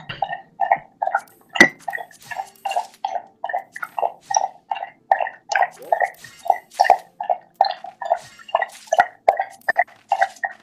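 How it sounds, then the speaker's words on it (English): A dog laps water in a steady, quick rhythm of wet slurping tongue strokes, close and continuous, with a brief clink partway through. "I'm gonna go for doggy drinking. Tapping water."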